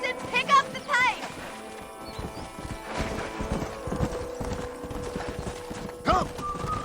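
Horse hooves clip-clop in a steady trotting rhythm in Red Dead Redemption, with a whinny near the start and characters talking over the hoofbeats.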